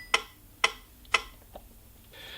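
Three sharp, evenly spaced metronome ticks from a Yamaha NP-31 digital piano, followed by a couple of fainter clicks and a soft hiss as the beat trails off.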